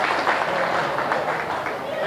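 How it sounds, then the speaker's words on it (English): An audience at a junior swine show gives a round of applause, a steady, even patter of clapping from a crowd throughout, with talk mixed in. "Let's give them a round of applause."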